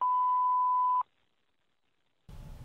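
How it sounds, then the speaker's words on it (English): A single steady electronic answering machine beep lasting about a second, followed by a pause and then low background noise as a recording starts. "Please leave your name and phone number after the beep."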